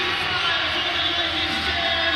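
An arena crowd at Budweiser Gardens in London rises in a steady, loud roar of cheering and noise during an NBL Canada basketball playoff game, with no break over the whole stretch.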